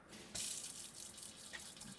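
A motorhome bathroom sink faucet opens with a sudden hiss, and water runs in a steady, fairly faint stream.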